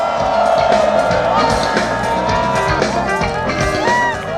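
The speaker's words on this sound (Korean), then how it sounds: "여러분의 힘찬 함성이 필요합니다" A crowd at an outdoor ceremony marking the Sejong National Assembly building lets out a loud, sustained cheer with whoops, while a voice over a loudspeaker carries on above the noise.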